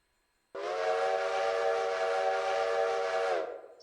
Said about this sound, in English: Pull that whistle with V and drag down.